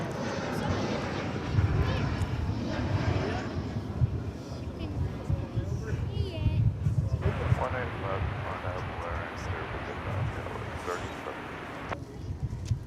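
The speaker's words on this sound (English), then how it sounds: "Must be kind of cool to fly on a brand new aircraft." A steady low engine rumble from a brand-new airplane at Dallas/Fort Worth (DFW) Airport fills the clip, with people talking quietly underneath it throughout.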